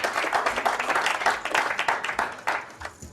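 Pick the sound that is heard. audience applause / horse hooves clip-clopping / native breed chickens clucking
audience applause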